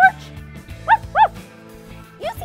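A voice imitates a dog's barking in a children's colour-learning show: two short, bright 'woof' calls close together near the middle, with other light vocal sounds before and after.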